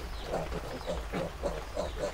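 Large pigs on a farm grunt and snort close by in a series of short, rhythmic oinks over a low steady background rumble.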